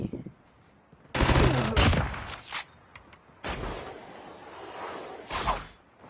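Gunfire in the Call of Duty Mobile battle royale game, with a loud burst of rapid shots followed by scattered shots and a final burst, punchy and close.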